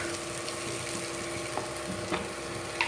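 Onions fry in a pan with a soft, steady sizzle, with faint scattered pops and clicks throughout.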